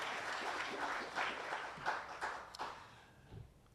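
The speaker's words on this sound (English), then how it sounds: "A round of applause for our Deputy Minister." Applause at the launch of a youth games event in Windhoek: a crowd clapping steadily for a deputy minister, fairly dense at first, then thinning to a few scattered claps as it fades out.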